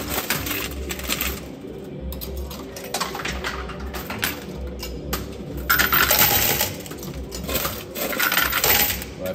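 Coins clattering and dropping inside a coin pusher arcade machine, a dense run of metallic jingles and clinks with louder bursts toward the end, alone without speech.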